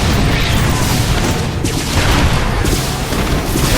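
Siege tanks and Banshees fight in StarCraft 2, producing dense continuous explosions and booming cannon fire with crashing impacts, loud and unbroken throughout.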